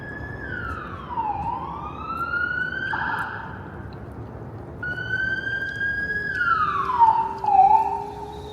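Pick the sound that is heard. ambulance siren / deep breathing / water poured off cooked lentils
ambulance siren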